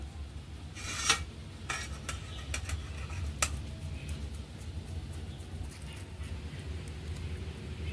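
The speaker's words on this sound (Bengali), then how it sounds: "এরপরে আমি একটা গেটারের সাহায্যে আলুটা গ্রেট করে নেব" Peeled potatoes rubbed over a hand grater in a home kitchen, giving soft repeated rasping strokes with a few sharper scrapes, quiet over a low background hum.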